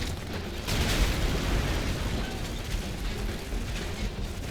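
A broad, rumbling explosion in Red Faction Guerrilla bursts out loudly and sustains as a dense roar for several seconds, with debris-like crackle and no voices.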